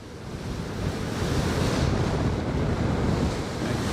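Headwind roaring past a rider on a Veteran Sherman electric unicycle at about 28 mph, a loud, steady, buffeting wind rush that swells slightly and never lets up.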